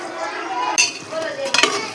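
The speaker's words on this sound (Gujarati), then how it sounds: "ચાલો તો મસ્ત આપણે ખીચડી બાળકો માટે વઘારી નાખીએ." Khichdi is tempered in hot oil with chopped tomatoes, giving loud close sizzling with a spoon stirring and clinking against the pot, in uneven bursts.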